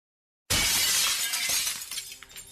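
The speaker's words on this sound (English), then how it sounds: "The sound of glass smashing makes him leap away from the door" Glass smashes suddenly and loudly after a moment of silence, a sharp bright crash that breaks into scattered tinkling shards fading over about two seconds.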